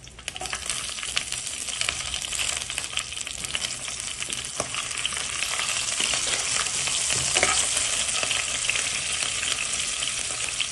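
Chillies, garlic cloves, curry leaves, cumin, mustard seeds and green chillies frying in hot oil, a steady dense sizzle with crackling pops that swells slightly louder toward the end, close and continuous with no talk.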